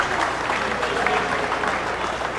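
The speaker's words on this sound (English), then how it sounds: "Now the gallery giving them a round of applause." Gallery spectators applaud after a racquetball doubles championship final, steady clapping from a small crowd in an enclosed court that lasts a couple of seconds.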